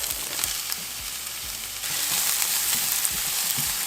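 Onions, garlic and butter sauté in a pan with a steady broadband sizzle and intermittent stirring scrapes, growing louder and denser partway through as the butter and garlic hit the hot fat; no talking.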